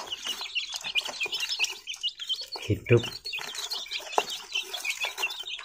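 Newly hatched chicks raised without a hen chirp in rapid, high, overlapping peeps throughout, close and lively, while someone speaks briefly over them.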